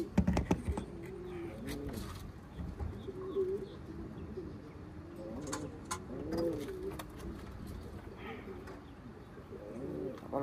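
A blue-bar pigeon coos repeatedly nearby, its soft rolling calls coming in a loose rhythm over faint outdoor background noise, with a few sharper flutters and clicks.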